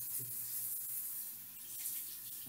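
A faucet runs in a steady, fairly quiet stream, a continuous hiss of tap water with no pauses and no voices.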